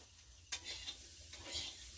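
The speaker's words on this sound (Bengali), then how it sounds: "ফুলকপি আলু প্রায় ভাজা হয়ে এসছে" Cauliflower and potato pieces frying in a pan, a steady soft sizzle with a few stirring scrapes and clinks near the start and middle, close and alone without talk.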